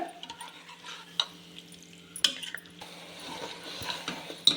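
Masala for mutton dum biryani fries gently in a pan while being stirred, soft sizzling under intermittent scrapes and sharp clinks of a utensil against the pan, close and fairly quiet.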